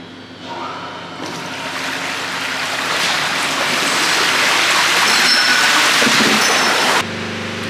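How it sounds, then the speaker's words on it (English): Water rushes steadily across the concrete cow holding area of a dairy barn during the afternoon milking shift, a broad, continuous gushing wash that swells louder and then cuts off abruptly near the end. "We're also gonna flush the holding area."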